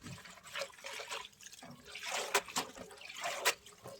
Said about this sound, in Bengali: এখন ভালো করে পানি দিয়ে ধুয়ে নিব।